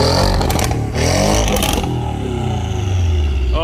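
A sports car with an IPE Valvetronic exhaust, on a mountain pass drive alongside a Mazda MX-5 and Porsche Boxster S, revs hard in loud sweeping bursts, then settles into a rumbling idle.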